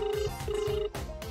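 A telephone rings in short repeating electronic bursts, loud and close, with no voices over it.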